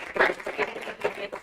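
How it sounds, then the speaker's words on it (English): Applause from a school board meeting audience honoring an absent marching band member, a short burst of clapping that rises and falls in uneven waves over about a second and a half. "so we'll give a round of applause for him"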